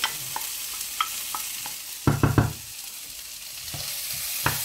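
Squid sautés with garlic in a pan for a Provençal stew, giving a soft continuous sizzle broken by a short cluster of stirring scrapes and clatters near the middle and a few lighter taps.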